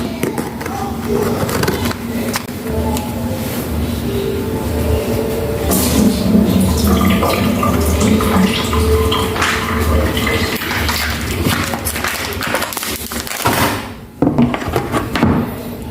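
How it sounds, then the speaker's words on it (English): Water drained from a cut tofu package in a home kitchen while preparing curry tofu in coconut milk, trickling and splashing with plastic crinkles and handling clatter over about sixteen seconds, with a voice talking at times. "So I'll be cutting into it and getting rid of the water."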